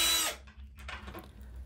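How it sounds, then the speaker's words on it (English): A power drill with a wood bit bores into a wooden wall stud for a bathroom grab bar, a brief close whirring burst that fades into quieter grinding. "Now using a wood bit, I'm drilling a hole in the stud to make sure that it doesn't split"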